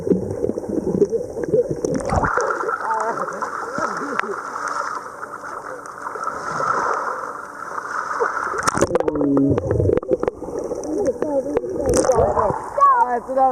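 Water splashing around swimmers in open water, sloshing and gurgling near the microphone, with people talking and calling out over it.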